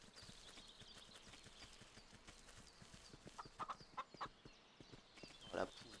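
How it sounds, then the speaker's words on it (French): A fleeing chicken in the video game Force of Nature gives a few short clucking bursts between about three and six seconds, sitting over steady game ambience and footstep-like ticks. "La poule qui fuit devant moi."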